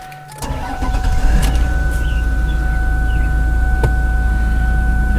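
A car with about 132,000 miles cranks and fires up, then settles into a steady, close idle hum that runs alone to the end.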